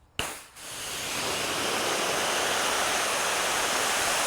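A pressure washer fires a steady, loud, broadband spray of water through a 25-degree nozzle, starting abruptly after a brief quiet moment and hissing continuously close by with no talk.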